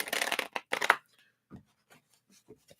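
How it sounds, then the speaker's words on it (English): Tarot cards riffled and shuffled by hand for a reading, two quick papery bursts followed by soft, scattered taps and slides of the deck settling. "Let's give these a shuffle here."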